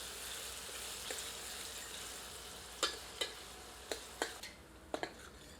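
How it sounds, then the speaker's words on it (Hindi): Gentle, steady sizzle of onions frying until golden brown in a pan for egg nihari, with occasional soft clicks and taps of a utensil stirring. "प्याज को तब तक भूनते हैं जब तक कि प्याज सुनहरे भूरे रंग"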